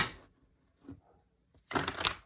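Tarot cards being shuffled by hand, a short papery riffle at the start, faint soft rustles, then a louder crisp burst of cards flicking together near the end.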